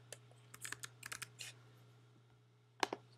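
Quick bursts of keystrokes on a computer keyboard while a folder name is typed, a cluster of close, crisp clicks followed by a pause and a final pair of taps over a steady low hum.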